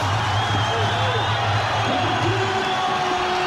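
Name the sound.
capacity crowd cheering at a Muay Thai fight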